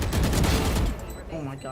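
Rapid gunfire bursts from the tactical shooter Valorant, dense and close for the first second, then thinning out beneath a voice speaking.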